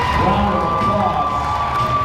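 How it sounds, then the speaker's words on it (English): Arena crowd at a girls' Class C1 high school basketball final, East Rochester vs Alexander, cheering and applauding steadily for a team introduced over the PA, a dense, loud wash of clapping and shouts throughout. "Give them a warm"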